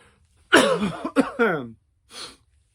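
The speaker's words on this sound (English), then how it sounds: "I'm actually coughing less, I promise." A person coughs in a short burst of two or three harsh coughs, followed by a quieter huff after a brief pause.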